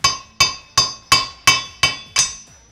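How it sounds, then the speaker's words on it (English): Seven sharp metal hammer blows ring out at an even pace, each striking to break off a ball joint grease fitting during a Mevotech TTX ball joint install, loud and close with a short metallic ring after every hit. "you take a hammer"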